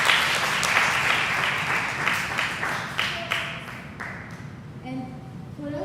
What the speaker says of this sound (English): a big round of applause for everyone who participated